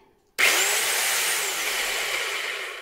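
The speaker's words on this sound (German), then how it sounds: "So, jetzt gehen wir auf einmal auf die Meißel- und Bohrerfunktion. Das heißt, ob das auch dreht." An Aldi Ferrex rotary hammer drill switches on abruptly in drill mode and runs with a loud, steady, whining motor roar that fades slightly over a few seconds, with no talking.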